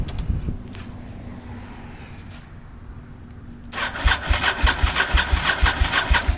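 A 1998 Honda VTR1000F Superhawk V-twin motorcycle with Yoshimura exhaust and the choke on cranks after a quiet pause, its starter whirring in fast, loud, rhythmic pulses up close.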